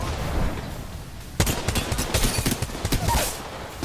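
Gunfire from a G7 Scout rifle in the Apex Legends video game: a quieter stretch, then from the middle onward a dense run of sharp, loud shots and bursts mixed with combat noise.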